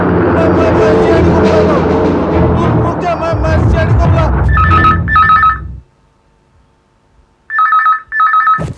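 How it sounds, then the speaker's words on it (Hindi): An old-style telephone bell rings in two short double bursts, loud and close, after a stretch of busy background noise and voices that suddenly cuts off. "इतनी रात गए, किसका फोन है?"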